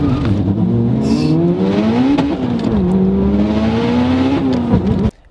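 A 1000 HP car with a twin-disc Quartermaster clutch launches hard and accelerates, its engine roaring loudly and steadily with a brief stumble around the middle before the pull resumes, then cutting off abruptly near the end.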